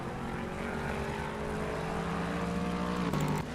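A number 86 Lexus race car in a PC racing game passes a McLaren during a three-hour endurance race at Spa, its engine a steady, loud, tonal drone that holds throughout.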